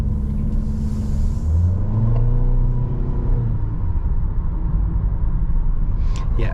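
A 2022 Honda HR-V LX SUV on the road, heard as a steady low engine and road rumble from inside the cabin, with a rising whir as it accelerates midway, and no talking.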